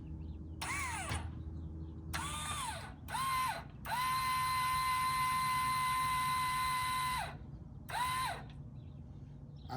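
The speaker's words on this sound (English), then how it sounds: "Then you just tighten these bolts up with an impact wrench." An impact wrench tightens bolts on a Z-Rator attachment for a 36-inch Scag V-Ride 2 mower, firing in short hammering bursts and then one long sustained run, close and loud, with quiet pauses between.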